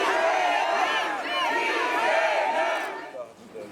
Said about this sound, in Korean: 민주당 지지자들 환호 소리에 서울중앙지법이 마치 선거 유세장을 방불케 합니다